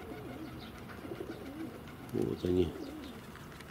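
Soft pigeon coos come through briefly over quiet outdoor ambience, with someone speaking faintly and a louder burst near the middle.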